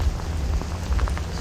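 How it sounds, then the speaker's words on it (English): Heavy rain pours down hard during a fishing outing, a dense, steady roar of drops hitting surfaces with scattered louder splatters, close and continuous with no talking. "it's raining hard, man. Too hard."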